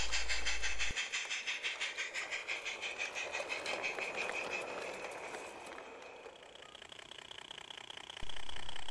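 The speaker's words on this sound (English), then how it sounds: "The mid-afternoon up passenger has just climbed Gallantry Bank and is pulling in" A light railway passenger train pulls into Bewkley Station after climbing Gallantry Bank, its wheels beating a regular clickety-clack with steady hiss that slows and fades before a louder rumble returns at the end.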